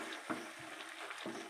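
Chili powder and spices being stirred into meat frying in a pan, a steady close sizzle with a few soft scraping strokes of the spoon, no voices.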